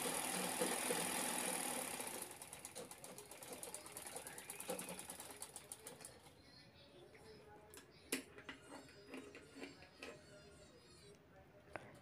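Sewing machine stitching the two sides of a ladies' handbag together, a quiet steady motor whir and needle clatter at first, then slowing to scattered faint clicks.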